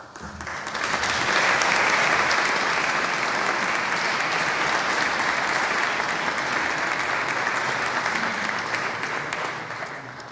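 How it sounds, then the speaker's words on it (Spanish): An audience at a church lecture and tribute to a priest applauds in a long, dense, steady wash of clapping that rises quickly, holds for about ten seconds and then begins to fade. "Esto está muy bien que los aplausos sean antes de empezar"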